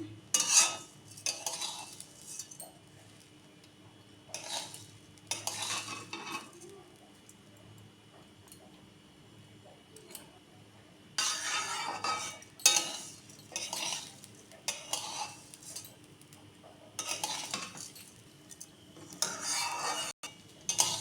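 Raw rice for pulao frying in a pan, stirred in bursts of scraping and clinking spoon strokes over a faint sizzle, with quiet gaps between the stirring rounds.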